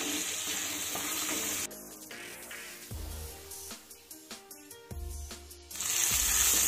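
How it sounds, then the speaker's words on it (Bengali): Eggplant pieces sizzle in hot oil with a pinch of turmeric, a steady broadband hiss that drops when stirred, with soft clinks of a spatula in the pan, then the loud sizzle surging back at the end. "এবার গ্যাসের হিট মিডিয়ামে রেখে বেগুনগুলোকে নেড়ে চেড়ে খুব সুন্দর লাল করে ভেজে নিতে"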